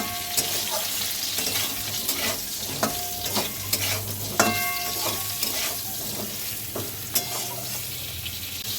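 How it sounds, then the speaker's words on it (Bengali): Tomato and salt fry with a steady close sizzle in a pan while a utensil stirs, scraping and clinking against the metal at irregular intervals. "টমেটো আর নুনটা দিয়ে একটু নাড়িয়ে চাড়িয়ে নিয়েছি।"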